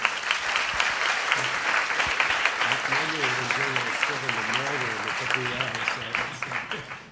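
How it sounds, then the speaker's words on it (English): An audience applauds at the close of an Ebola panel discussion, sustained clapping that fades toward the end while someone talks over it. "Maybe give a round of applause for that."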